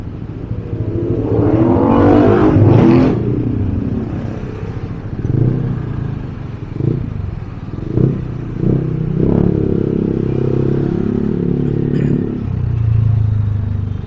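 Heavy road traffic heard from a motorcycle on the road from Canlalay to Olivares: a continuous engine drone with a louder revving surge early on, then rumbling, clattering idle and stop-and-go engine noise close by.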